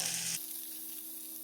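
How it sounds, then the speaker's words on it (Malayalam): Steady sizzling of rice sautéing in hot ghee, a bright loud hiss at first that settles into a softer, continuous crackle. "ഒരു 2 ടേബിൾ സ്പൂൺ നെയ്യ് ഒഴിച്ചു കൊടുത്ത് അരി വറുത്തെടുക്കാം"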